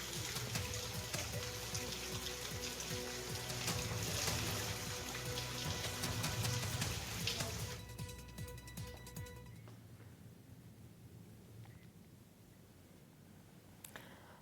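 Heavy monsoon rain pours steadily in a loud, dense hiss during a spell of rain in Rajasthan. It then thins to a softer patter with scattered drips.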